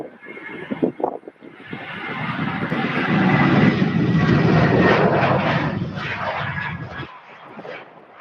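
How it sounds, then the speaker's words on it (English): A Southwest Airlines jet departing Louisville airport for Denver builds into a loud, rising engine roar that swells and holds for several seconds before cutting off, heard outdoors from a distance with brief noises at the start. "Southwest Airlines flight 2737 going out to Denver,"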